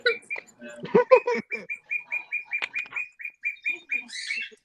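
A pet bird chirps in a rapid, regular series of bright, close chirps, first overlapping with a person talking, then continuing alone.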